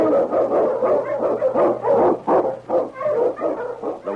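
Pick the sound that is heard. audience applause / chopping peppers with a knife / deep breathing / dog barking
dog barking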